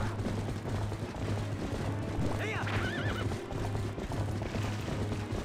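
A horse whinnies in The Legend of Zelda: Twilight Princess, a rising, wavering call over a steady background with hoofbeat-like clopping and a low repeating tone.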